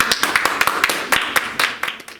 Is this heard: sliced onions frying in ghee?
no